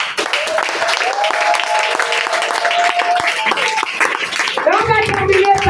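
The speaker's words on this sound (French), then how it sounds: "On acclame le Seigneur." A church congregation applauds and claps together for the Lord, a dense, steady wall of hand claps with voices and cheering mixed in that carries on throughout, rising again toward the end.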